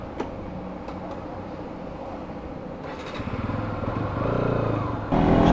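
A Bajaj Pulsar NS200 on Apollo Alpha S1 140/70 tyres rides along a highway; its engine hums low and steady, then rises as the rider accelerates, with a louder surge near the end.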